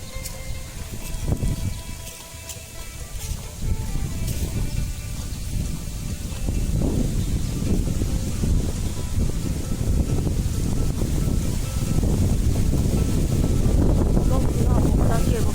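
Strong outdoor wind roars and buffets across the microphone, rising steadily in loudness through the whole stretch with rumbling gusts beneath.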